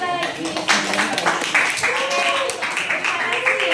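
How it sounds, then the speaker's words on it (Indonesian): Classroom applause from a group of students clapping together, dense overlapping claps with voices talking and calling out over them throughout, steady and fairly close. "Oke, kita kasih tepuk sekali lagi."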